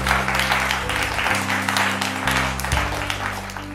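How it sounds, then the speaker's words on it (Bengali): Applause rises from the audience at a family special event, a busy patter of clapping that plays over a steady background music track with sustained low tones. "একটা হাততালি হয়ে যাক"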